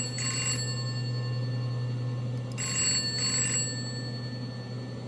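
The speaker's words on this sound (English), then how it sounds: "Amelia, you have a phone call from George Putnam." An old-fashioned telephone bell rings in two bursts, the second a double ring, over a steady low hum in a quiet room.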